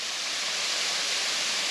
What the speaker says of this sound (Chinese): 泰安瀑布下方这边的溪谷